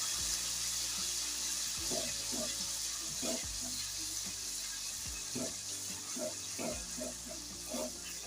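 Crushed garlic roasts in oil over a low flame for Kathiyawadi garlic chutney, giving a steady soft sizzle under repeated stirring scrapes and light clinks, with no voices.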